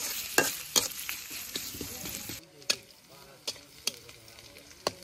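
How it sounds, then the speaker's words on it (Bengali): Onion, green chili and garlic fry in oil in a wok, a soft sizzle with repeated sharp stirring scrapes and taps, one burst of louder hiss at the start, then quieter frying. "সবকিছু ভালোভাবে ভেজে নিই।"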